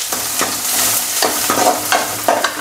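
Crushed garlic hits hot oil in a pan, loud close sizzling and frying with rhythmic stirring scrapes about every half second, no voices.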